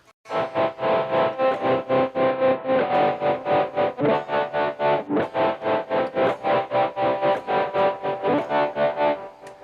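A sustained synth tone from Pokémon FireRed and LeafGreen game music pulses rapidly up and down in volume, a steady fast tremolo flutter lasting several seconds.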